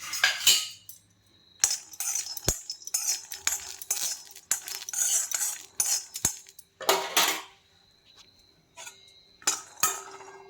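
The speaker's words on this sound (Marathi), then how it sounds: "तर आपण शेंगदाणे भाजून घेणार आहेत थोडेसे." Peanuts dry-roasting in a metal pan, stirred with a spoon that scrapes and clinks in irregular bursts separated by quiet pauses, close and crisp.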